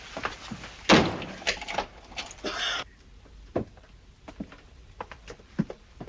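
A door aboard a ship is shut with a loud thud, followed by brief rattles and clicks of the lock, then scattered faint knocks and taps in a quiet room.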